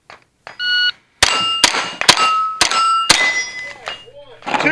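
Rimfire rifle shots at a steel challenge stage ring steel plate targets, several sharp cracks each followed by a bright metallic ping, in quick irregular succession with a short pause partway through.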